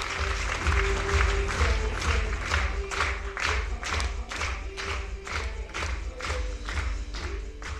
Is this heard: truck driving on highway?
no